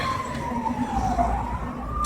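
A siren wails steadily at a distance, its tone slowly sliding down and back up over constant low traffic rumble.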